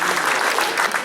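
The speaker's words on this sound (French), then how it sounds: "on va les applaudir tous les deux s'il vous plaît" Audience at a town back-to-school forum in Les Mureaux breaking into dense, steady applause, close and loud for about a second with no pauses.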